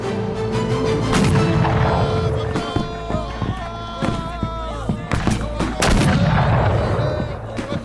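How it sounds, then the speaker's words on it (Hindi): Explosions and heavy gunfire rumble and crack through war-torn streets in a loud, dense battle scene, booming bursts rising over a constant roar. "जनाब, हर तरफ धमाके हो रहे हैं, गलियां तबाह हो रही हैं"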